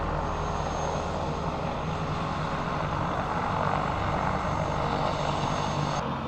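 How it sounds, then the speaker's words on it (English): A helicopter flies nearby in the Colorado mountains at morning, its engine and rotor making a steady, loud drone that holds throughout with no talking. "I awoke to the sound of a helicopter nearby."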